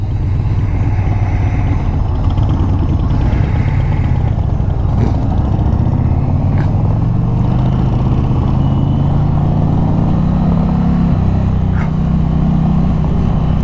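A 2020 Indian Challenger motorcycle being ridden, its engine droning loud and steady throughout, with pitch climbing gradually as it accelerates alongside continuous wind and road rumble.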